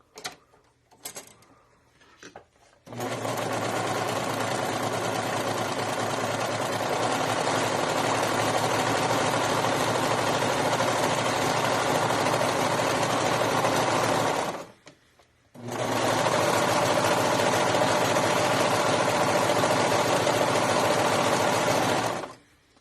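A sewing machine runs steadily while stitching a seam on a garment, a loud, close, continuous mechanical whir that stops briefly for a second before starting up again, with no voices.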